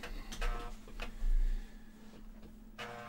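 Clicking from an Amiga 500 floppy drive loading Lemmings comes as a few broadband ticks spread over three seconds, sitting above a constant low hum, nearby and with no voices.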